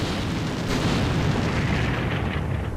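Artillery fire in Combat Mission Shock Force, a modern NATO German scenario with counter-battery shelling: a dense, continuous rumble of distant explosions and booms blending into a loud, sustained roar with no clear gaps.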